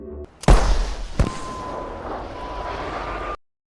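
A flare gun fired into the sky: a loud blast rings out, then a second sharp crack, followed by a lingering whooshing rush that fades before cutting off.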